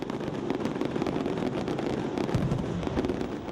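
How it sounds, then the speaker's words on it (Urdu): New Year's Eve gunfire and firecrackers crackle in a dense, continuous barrage of sharp pops and bangs, loud and overlapping with no pauses. "رات کو 12 بجتے ہی پورے ملک میں شدید فائرنگ کی آوازیں سنائی دیتی ہیں"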